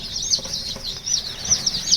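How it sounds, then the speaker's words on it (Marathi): Many small native village chicken chicks peeping in high, rapid chirps during brooding, a busy continuous chorus close up with light rustling underneath. "ओरिजिनल गावठी कोंबडीची पिल्लं आहेत"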